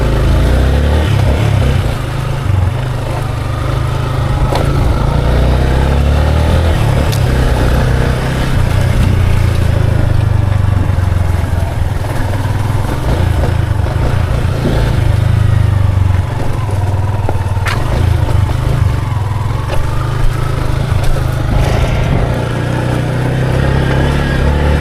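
A worn, run-down motorcycle engine runs steadily and loudly throughout, a constant low rumble with clattering texture and a few brief sharper accents, no voices over it.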